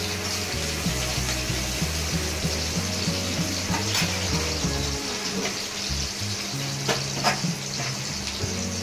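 Stuffed brinjal sizzling and crackling in hot oil in a new kadhai, a steady loud fry with occasional stirring clinks and scrapes throughout.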